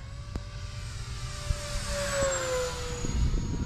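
E-Flite Cirrus SR22T 1.5m RC plane on a 4S battery passing at full speed down the runway, its electric motor whine rising and shifting in pitch as it flies by, over outdoor wind noise.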